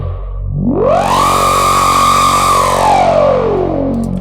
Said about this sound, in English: massive sound with a lot of LFO on it and an automation that goes from 100 to 1